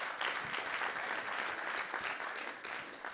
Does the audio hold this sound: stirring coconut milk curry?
no